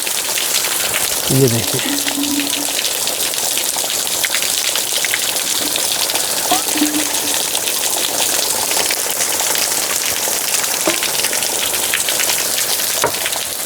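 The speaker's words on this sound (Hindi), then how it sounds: "बौछारों के रूप में आ रहा है, और अपन पूरे भीगते जा रहे हैं।" Heavy rain pours down in showers, a dense continuous outdoor hiss of drops drenching everything nearby, with a voice speaking briefly at the start and occasionally over the downpour.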